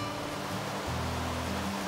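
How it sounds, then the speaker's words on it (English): Fresh water flows from one pool into another on Maui's Pipiwai Trail, producing a steady, dense, close rush with no pauses across the short stretch. "the fresh water gently flows from one pool into another"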